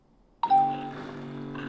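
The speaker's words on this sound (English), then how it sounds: "I love the doorbell sound." An overpriced rice cooker sounds a single doorbell-style electronic chime, a clear ding that rings out and lingers over a quiet room.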